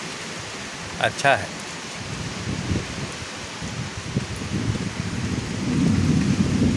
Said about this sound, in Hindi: हवा भी बहुत तेज़ अभी चालू हो गया है।